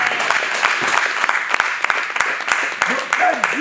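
A church congregation at a wedding anniversary and vow renewal applauds steadily, with dense clapping close by and a voice speaking over the applause.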